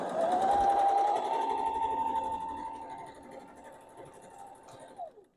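A sewing machine stitches a baby quilt on a bouncy folding table, its motor humming steadily close by at a constant pitch, gradually quieting before a brief rise and stop at the end.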